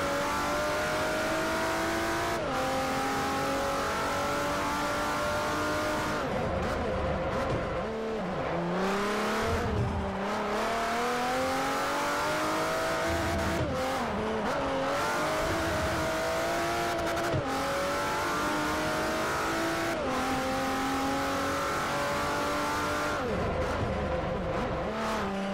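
Race car engines from Forza Motorsport 4, GT500 tour racing, rev and rise continuously through gear changes, with shifting engine pitch and occasional tire squeal, loud and steady with no talk.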